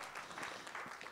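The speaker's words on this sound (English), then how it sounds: "Give him a round of applause." An audience at a trade finance knowledge-series talk gives a short round of applause, quiet and distant, with a brief patter of clapping.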